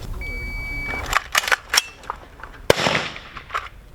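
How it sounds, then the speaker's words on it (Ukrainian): A shooting range timer gives one sustained electronic beep at a civilian firearms training centre in Zaporizhzhia, followed by sharp gunshots and clatter spread across the following seconds. "Ось сигнал таймера."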